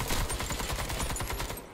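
Automatic gunfire in the online shooter Warface, a fast, continuous burst of rapid shots crackling close and loud, then cutting off abruptly at the end.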